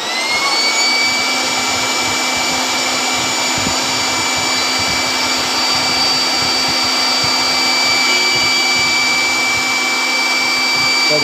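An electric blower runs steadily and loudly, a dense continuous roar with a high whine, near and unbroken throughout with no talk.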